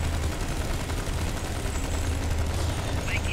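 Dense, continuous weapon fire rages in a Star Trek Online battle, a loud unbroken barrage of energy shots with no pauses.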